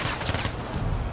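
Gunfire in the video game Black Ops III: a dense, loud rattle of rapid shots packed into a brief burst with no talking.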